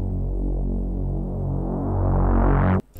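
A reversed synth bass note recorded in Edison, a deep humming tone that swells and brightens steadily before cutting off abruptly, followed by a brief click.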